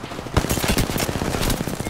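Rapid automatic gunfire crackles through a video game battle in dense, loud, continuous bursts with sharp repeated shots and no voices.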